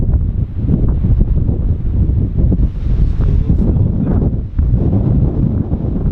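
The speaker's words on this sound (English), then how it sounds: "It's pretty windy up here" Strong, steady wind roars and buffets loudly across the microphone on a mountain at about 9,000 feet, constant and close, with no voices.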